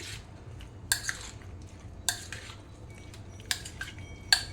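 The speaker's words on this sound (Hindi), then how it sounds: "इन सारी चीज़ों को इसमें मिक्स कर लेना है" A spoon clinks and scrapes against a bowl while paneer tikka marinade spices are mixed, giving sparse, fairly quiet knocks and taps over a low, near-silent background.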